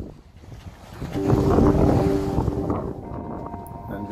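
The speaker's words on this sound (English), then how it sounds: "we are sailing smoothly into pit water" A sailboat under way near Pittwater on the Hawkesbury, with a steady wash of wind and water that swells louder midway and stays sustained, buffeting wind noise on the microphone over it.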